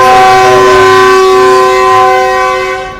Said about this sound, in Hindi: पहला डिपार्चर हॉर्न हो गया 2 मिनट स्टॉप के बाद, और अब रवानगी के लिए तैयार।